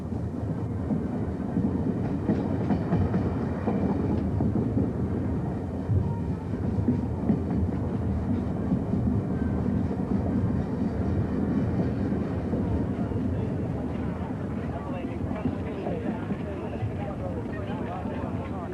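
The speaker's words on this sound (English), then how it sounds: "Through the suburbs of Perth, 7 days after leaving Sydney, 3801 was steaming into history in grand style." Steam locomotive 3801 travels through the suburbs of Perth, Australia, giving off a continuous rumbling, chugging run of rolling wheels and machinery beneath a voice talking throughout.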